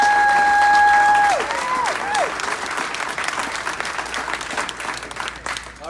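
Loud applause from a crowd at a software developer graduation, steady clapping for several seconds with a few whistles near the start.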